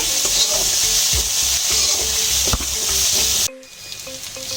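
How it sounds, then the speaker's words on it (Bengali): A fried mixture with sugar, chopped cashews and raisins is stirred in a pan, with a steady loud sizzle and scraping spoon strokes. Near the end the frying briefly drops away to quiet clinks. "এবার একসঙ্গে সব মিশিয়ে নিচ্ছি।"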